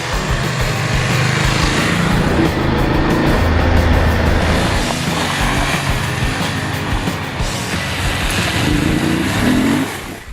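A 2019 BMW F850GS Adventure motorcycle engine runs steadily on the road in Spain, a loud continuous drone with wind rush and slight shifts in pitch, no voices over it.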